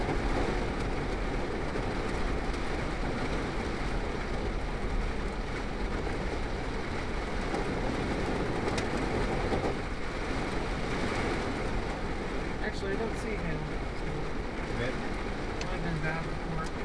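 Pea-sized hail or heavy raindrops drum steadily on a car during a West Central Texas storm chase, a dense continuous patter close around the vehicle with no pauses.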